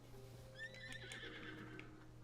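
Epona, the horse in the video game Zelda: Tears of the Kingdom, giving a faint high whinny with trembling rising and falling calls, with light hoof clip-clop and a steady low hum underneath.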